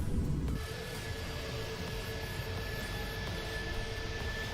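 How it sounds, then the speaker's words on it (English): Thrust reversers on an A310 airliner in Microsoft Flight Simulator 2020 give a loud, steady roar of engine noise with a continuous high whine, a broad rumble that holds for several seconds with no voices. "You see how it activates the reversers on me?"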